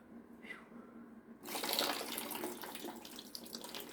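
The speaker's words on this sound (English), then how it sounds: "I don't know where this water's coming from." Water runs and splashes out of a domestic hot water boiler coil during a cleanout, starting faintly and then surging into a steady, close rushing flow.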